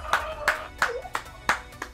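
A slow, steady run of single hand claps, about six evenly spaced sharp claps, fairly close and moderately quiet, with no cheering evident.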